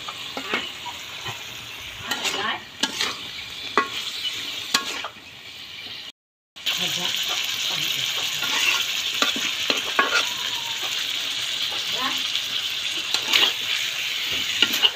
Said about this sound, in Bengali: ডিম কষাকষি হচ্ছে